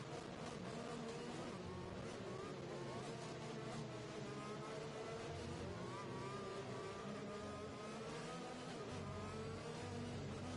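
Racing car engine revving steadily in a rally racing video game set in Mexico, a continuous loud drone with shifting pitch that runs through the whole stretch without pauses.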